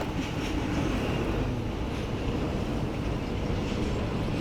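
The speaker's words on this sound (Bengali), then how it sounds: "আর আমার ডান দিকে ট্রেন যাচ্ছে" Low rumbling roar of a train passing at a distance, steady and continuous, mixed with wind-like noise and no talking.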